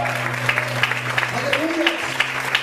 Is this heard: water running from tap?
no